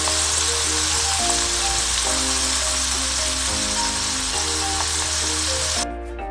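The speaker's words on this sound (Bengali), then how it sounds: "এখন এই পাশটাকে একটু ভেজে দিচ্ছি ভালো করে" Potatoes frying in a pan for an aloo bhaja side dish, giving a steady, loud, close sizzle and crackle that runs unbroken, then thins and softens in the final moment, with a low hum and tonal music underneath.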